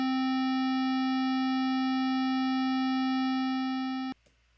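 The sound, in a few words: square wave through low pass filter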